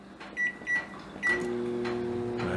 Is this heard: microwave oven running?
yes